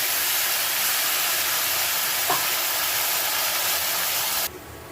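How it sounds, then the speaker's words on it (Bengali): Onion paste frying in oil and butter with bay leaf and whole garam masala, a dense, loud, continuous sizzling hiss that cuts off abruptly near the end. "পেঁয়াজটাকে খুব অল্প সময় ধরে ভেজে নিতে হবে, যাতে রঙটা পরিবর্তন না হয় কিন্তু পেঁয়াজটা ভাজা হয়।"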